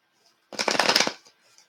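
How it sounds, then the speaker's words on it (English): Playing cards riffle together in one quick, crisp shuffle, close up, followed by a faint patter as they settle. "Let's shuffle a card."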